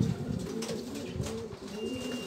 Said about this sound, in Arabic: هاي حمامه اخرى جايه يمكن هي شافتها